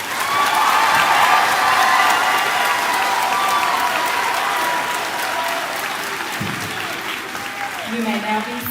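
A large graduation crowd at the 2023 Southwest Edgecombe High School ceremony applauds a row of students, loud sustained clapping with some cheering that tapers slightly, and a voice begins speaking near the end.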